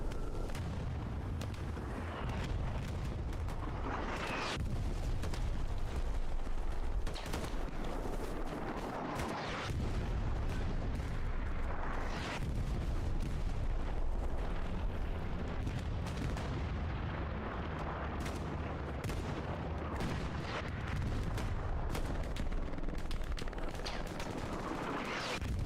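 Artillery rounds land in a Hell Let Loose match: a dense, continuous barrage of heavy booming impacts and crackling gunfire, loud and sustained throughout with no pauses.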